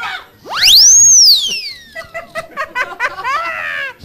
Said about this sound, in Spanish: Vamos a ver si chiflo.